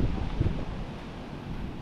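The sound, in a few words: strong wind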